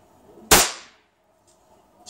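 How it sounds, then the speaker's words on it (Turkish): A Gamo Shadow DX air rifle fires a single loud, sharp crack up close, and the sound decays quickly into quiet, with small clicks after it. "havalı tüfeğimizi şöyle bir patlatalım."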